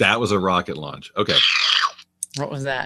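A slurp sound effect, a short wet hiss-like slurp about half a second long that sits between two people talking and drops out just before it.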